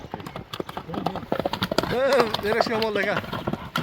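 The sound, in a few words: horse hooves clip-clopping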